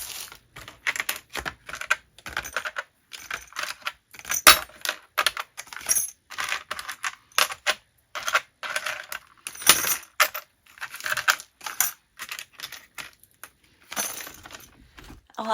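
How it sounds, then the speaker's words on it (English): Metal gear charms and key charms clink and rattle as they are dropped back into small bags, a steady run of close, bright jingling taps with no talking. "So I'm going to put all the gears back in here."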